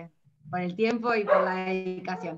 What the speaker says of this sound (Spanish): Ese es mi perro que ya está pidiendo salir